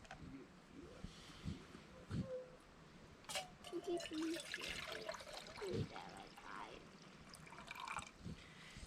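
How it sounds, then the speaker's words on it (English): Creek water pours and trickles into a container on a cold-weather trail camp, a faint, uneven splashing and dribbling that rises and falls over several seconds, with a voice speaking softly underneath. "This is our creek water."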